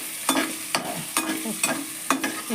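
Green peas and chopped green chilies fry in a pan with a steady sizzle, broken by about five sharp, rhythmic spatula scrapes and knocks, close and clear with no talking.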